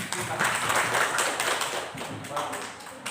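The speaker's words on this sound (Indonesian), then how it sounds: "Oke, berikan tepuk tangan." Scattered clapping in a classroom, fairly quiet, mixed with voices and chatter throughout.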